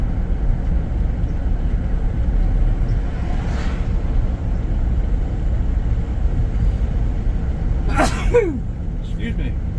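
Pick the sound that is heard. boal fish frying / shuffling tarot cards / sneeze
sneeze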